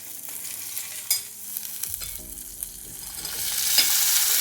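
Sweet potato pieces stirred in hot oil with chili, a fasting-style dish: scraping spatula strokes over a quiet sizzle that grows louder and fuller toward the end.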